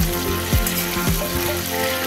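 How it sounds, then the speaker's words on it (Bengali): Prawns frying in hot oil in a wok, a loud, dense sizzle that crackles steadily up close, with a few soft knocks from the pan and no voices. "কড়াইতে তেল গরম করে চিংড়ি মাছগুলো ভাজতে দিই।"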